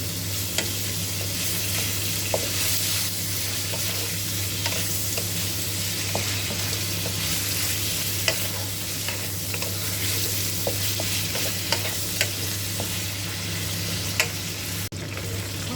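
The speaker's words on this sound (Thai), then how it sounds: "เราต้องคอยหมั่นผัดวนไปนะคะ จนกว่าจะเหลืองได้ที่เลยนะคะ" Pork belly pieces stir-fry in oil in a pan until crisp and golden, a loud continuous sizzle with scattered small pops and spoon scrapes over a steady low hum.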